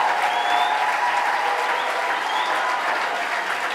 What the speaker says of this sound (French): vamos a darle el más grande de los aplausos